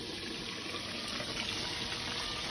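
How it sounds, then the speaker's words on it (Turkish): Water pours steadily into a cooking pot of potatoes for a Turkish stew, a continuous gushing, filling sound at moderate level with no talking. "Daha sonra üzerine su ekleyeceğim."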